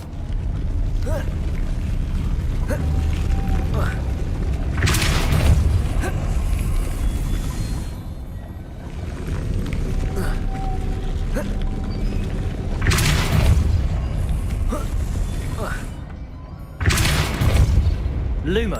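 Spell blasts from the Hogwarts Legacy video game land as booming whooshes in three bursts over steady game ambience and mechanical creaks, with a voice casting between them.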